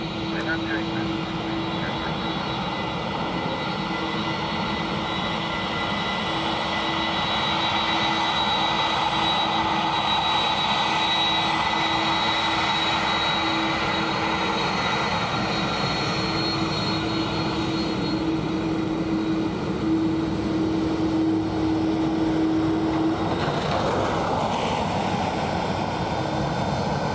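Airbus A330 jet arriving at Dublin Airport, a steady roar with a sustained engine whine and hum held for the whole span, fairly close and continuous, easing off near the end as the aircraft passes.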